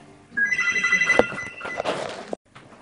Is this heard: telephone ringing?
yes